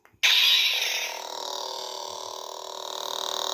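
A Maverick V.2 lightsaber is switched on, cutting in suddenly with a bright, tinny electronic hum that stays steady and fairly loud, with no talking.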